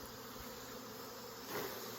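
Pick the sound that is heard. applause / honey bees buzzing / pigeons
honey bees buzzing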